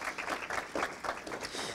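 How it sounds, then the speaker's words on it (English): A small audience at a conference claps in a brief burst of applause, the individual claps audible in an uneven patter at moderate volume. "Everybody clap your hands."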